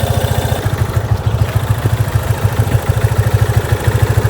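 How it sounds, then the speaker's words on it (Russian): A 2021 Yamaha FZ25 motorcycle engine idles up close, a loud, even, rapid thumping pulse with a light mechanical clatter, running steadily throughout with no talking. "двигатели работают без посторонних шумов в штатном режиме"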